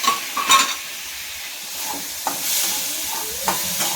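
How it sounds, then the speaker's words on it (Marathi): Moong beans sauté in a hot pan with a steady sizzle, while a spoon scrapes and stirs them in several short strokes, close and fairly loud with no voices. "हे मूग आहे ना, याच्यातच परतून घेऊ"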